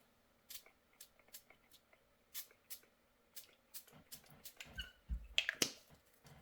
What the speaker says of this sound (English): A little mist of water.